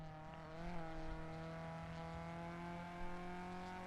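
Race car in a Twin Cup race at the Nogaro circuit pulling away, engine tone climbing and holding as a steady harmonic whine, heard faintly from a distance with light background noise.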